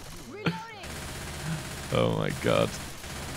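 Gunfire from the zombie shooter Left 4 Dead 2 crackles faintly under the game's background noise, while a man exclaims briefly between short louder bursts.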